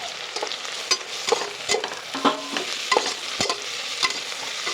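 Onions, green chillies, cinnamon and cloves sizzle in hot oil for a pressure-cooker biryani, with steady frying hiss broken by sharp spoon scrapes and clinks against the pan, close up and with no voices.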